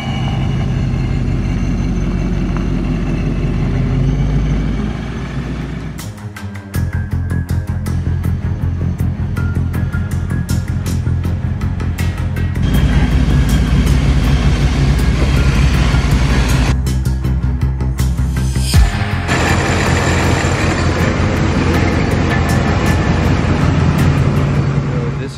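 A supercharged 2021 Ford Mustang Mach 1 with an ESS G3 kit runs on a chassis dyno, its loud engine roaring steadily through a long sustained pull, briefly dropping before climbing back to full throttle, with no talk.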